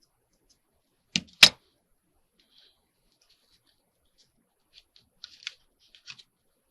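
Scissors trim a piece of decorating material: two sharp snips close together, then quiet broken by a few faint small clicks and rustles.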